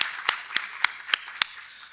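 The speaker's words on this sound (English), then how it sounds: "A round of applause, ladies and gentlemen," A handful of sharp, evenly spaced claps ring out, about five distinct slaps with short gaps, in a conference hall after a choir performance.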